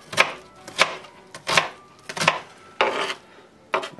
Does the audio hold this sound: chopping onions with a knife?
yes